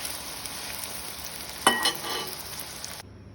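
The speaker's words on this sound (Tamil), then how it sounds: "இப்படியே எல்லா கத்திரிக்காயும் பொரிச்சு எடுப்போம்." Eggplant pieces frying in hot oil, a steady, close sizzle that holds evenly throughout with a brief louder crackle midway before it cuts off.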